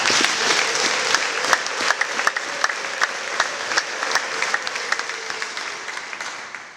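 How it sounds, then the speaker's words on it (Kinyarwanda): A church congregation at a Christmas service applauds steadily and loudly, dense clapping with sharp individual claps standing out, slowly fading toward the end. "Imana tuzi tumuha amashyi Yesu"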